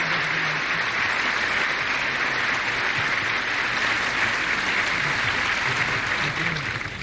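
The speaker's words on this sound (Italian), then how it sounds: "io vorrei un applauso per i vescovi che sono presenti" A large crowd applauds the bishops and cardinals present at Pope John Paul II's Eucharistic celebration in Porto San Giorgio, a steady, dense roar of clapping that holds loud and unbroken throughout.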